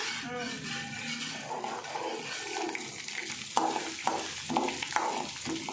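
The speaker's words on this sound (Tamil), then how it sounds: "ஆமாம், நல்லா ஃப்ரை ஆகட்டும்." Ingredients for ginger chutney sizzle in a pan with a steady frying hiss, and utensils clatter and scrape sharply in the second half. Voices can be heard faintly nearby.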